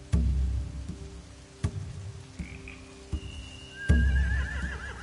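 Horses neigh and whinny in The Walking Dead video game, a wavering high whinny rising near the end over several dull thumps and a low background rumble.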